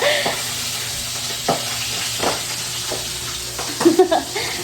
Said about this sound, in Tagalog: grabe yung talsik ng mantika kaya napashelled ako